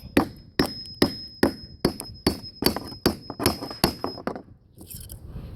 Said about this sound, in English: slowly feeding the wedges into place and separating the rafters